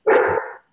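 A single short, loud dog bark, close by and alone, cut off cleanly after about half a second.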